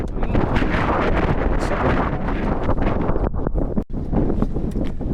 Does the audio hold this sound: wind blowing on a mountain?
yes